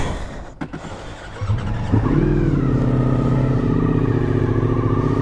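A Ducati motorcycle engine from the 2025 range, Multistrada RS, Pikes Peak or V4S, cranks with a few clunks, fires up and settles into a loud, steady rumbling idle with a rising rev, close by.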